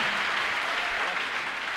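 A church congregation claps steadily together, a dense, even wash of applause that holds at full strength throughout with no voices over it.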